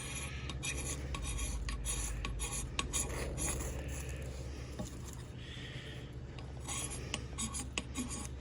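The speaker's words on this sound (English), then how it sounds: "That's scraping that ferro rod quite nicely." A ferro rod scraped outdoors, giving a continuous dense rasping scratch that runs steadily throughout at close range, with small harsh bursts and no talk over it.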